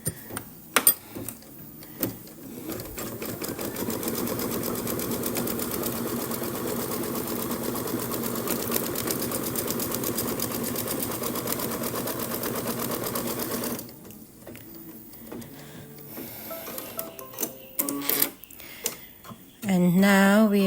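A sewing machine runs steadily, stitching background quilting on a small pillow keyring ornament. The motor hums continuously for about eleven seconds, then stops and is followed by brief handling noises and a short restart at the end.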